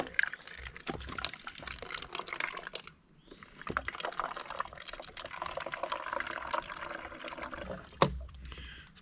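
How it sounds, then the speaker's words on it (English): Stream water flows and gurgles into a CNOC water bottle as it fills from a moving creek along the Appalachian Trail near Springer Mountain, a steady close trickle with a short dip partway through and a few knocks. "Filled up the CNOC pretty quickly."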